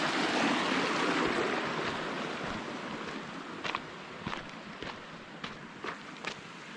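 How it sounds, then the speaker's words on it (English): A mountain stream runs beside a hiking trail on the Thousand Island Lake Loop in the Ansel Adams Wilderness. Its rushing water is loud and close at first, then eases as scattered crunching footsteps come through. "There's a ton of water on this trail. I've passed about a dozen of these streams."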